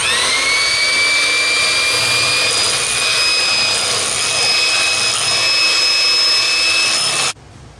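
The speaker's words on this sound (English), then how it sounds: "with my hand mixer" Electric hand mixer whipping passion fruit mousse in a bowl, a steady high motor whine with rising pitch that runs loud and continuous for about seven seconds, then cuts off abruptly.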